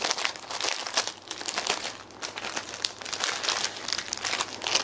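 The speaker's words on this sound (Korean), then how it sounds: "한번 뜯어볼게요." Plastic packaging around mask filters is torn open, producing continuous close crinkling and crackling with sharp tearing bursts throughout.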